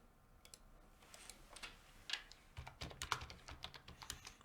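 A computer keyboard clacks under a chess commentator's fingers, quiet irregular keystrokes in short bursts that quicken toward the end, close but soft, with no talking.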